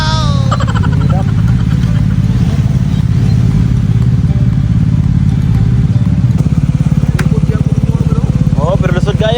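Many motorcycles in a crowded motorcade rumble and idle close by in a continuous, rattly engine clatter, with some revving, while people talk over the noise.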